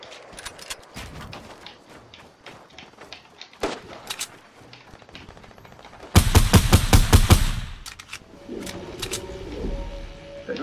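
Gunfire in Fortnite crackles in scattered shots, then a loud rapid burst of automatic fire rattles for about two seconds, followed by quieter in-game noises.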